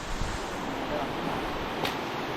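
A strong stream flows through a channel where a rock had been blocking the water's path, a steady close rushing wash with faint low rumble and no pause.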